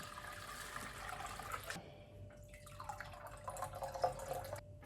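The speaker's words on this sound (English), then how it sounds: "There's lots of sediment in the pot, so I'm gonna rinse that out" Water runs and drips while sediment is rinsed out of a cooking pot used for making walnut dye, a steady splashing stream with a brief gap midway, then resuming with small clinks and drips close by.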